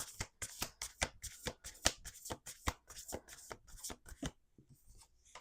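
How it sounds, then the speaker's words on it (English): Tarot cards being shuffled by hand, a rapid run of close, crisp riffling bursts in an uneven rhythm that tapers off into a few soft taps. "We're going to do 3 more shuffles."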